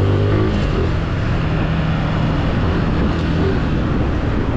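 A superbike's engine roars loudly and steadily during a wheelie on an empty road with a slight slope, a continuous close, high-revving drone with wind noise and no voices.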